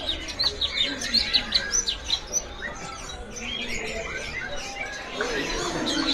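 A caged songbird at a bird kiosk sings in bright, rapid chirps and trills, close and lively, with steady background chatter and market murmur beneath it.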